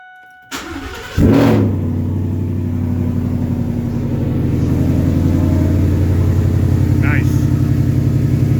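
Car engine cranks briefly, then catches and settles into a steady, loud idle after a nylon fuel line and tank repair, running close by with a slight rev partway through.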